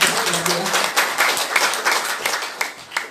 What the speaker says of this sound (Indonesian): Aplaus dong buat perusahaan.